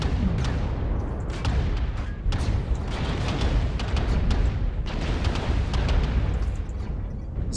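A mech in MechWarrior Online, an EBJ-A armed with three AC/5 autocannons, keeps up continuous fire, its loud, dense booming bursts overlapping in a steady rolling barrage with no pause.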